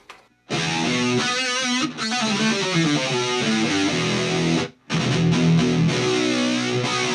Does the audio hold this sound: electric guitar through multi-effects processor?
yes